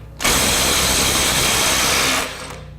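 A Ridgid sub-compact impact wrench runs in one loud, steady burst of about two seconds, then cuts off and leaves a quieter tail.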